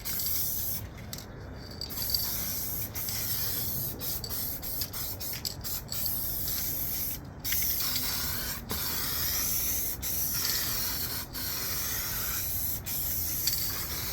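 Aerosol adhesion promoter sprayed in light, thin coats onto an FMS 1500mm P47 foam model airplane, heard as a steady close hiss running throughout, broken by several brief pauses between passes.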